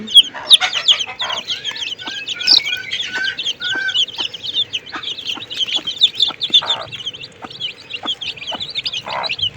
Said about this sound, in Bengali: এগুলি কিছু দেশি আছে কিছু ফাউমি জাতের মুরগি আছে